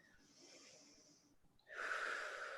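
Slow, deep breathing during a guided relaxation exercise: a soft, airy breath fades out, a brief pause follows, then a louder, fuller breath rushes in close to the mic, with no talking.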